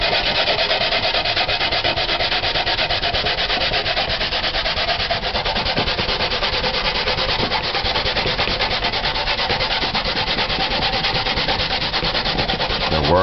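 Hand grating in the old-fashioned way for Jamaican rice and peas, a continuous rhythmic rasping scrape that stays loud and close throughout, with no speech.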